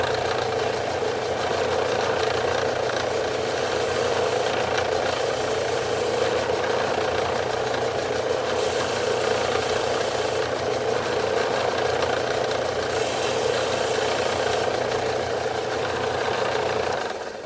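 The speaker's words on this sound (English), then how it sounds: "belt sander." A belt sander grinds down a brass lightsaber switch cap, running as a steady, loud mechanical drone with a constant motor hum and gritty abrasion throughout, with no voices.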